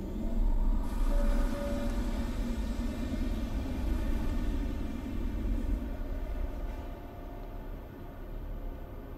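A train rumbles at a station platform in Condemned: Criminal Origins, a steady, loud low drone of rolling carriages and machinery that lasts throughout with no voices.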